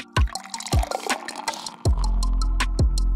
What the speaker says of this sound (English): Start by pouring the beer towards the back of the cup, quickly moving to the center, releasing the right amount of carbonation